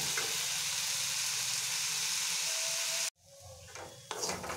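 Potatoes and beans fry in a pan with a dense, steady sizzle that cuts off abruptly, followed by quieter clatter and stirring.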